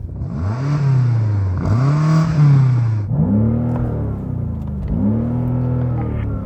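A BMW M5 engine revs repeatedly up to its soft limiter in four loud, close bursts, each rising roar bouncing and holding at the limiter before dropping back.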